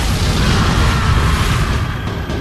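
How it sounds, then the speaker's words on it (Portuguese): Cannon bombardment during the siege of Constantinopla: one loud, dense booming blast filling the whole moment, heavy low rumble with broad crackling noise, no voices. "As pessoas em Constantinopla nunca tinham vivenciado nada parecido com um bombardeio de canhão."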